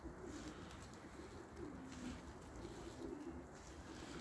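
Domestic pigeons in a loft coo steadily, their low rolling calls repeating in soft waves over a constant outdoor hiss, no voices present.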